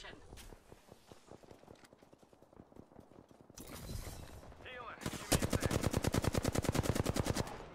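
Rapid automatic weapon fire in the battle royale shooter Apex Legends, a fast even stream of close, loud shots building toward the end after quieter footsteps and movement.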